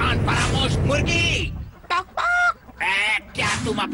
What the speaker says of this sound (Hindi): वो मुर्गी देख रहे हो?